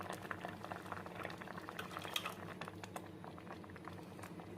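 Mango pachadi boils in a pot with a soft, continuous bubbling and popping, low and close, with no voices.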